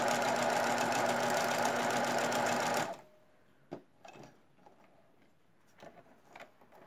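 A sewing machine runs steadily for about three seconds, joining fabric binding strips end to end, then stops, leaving faint handling clicks and rustles.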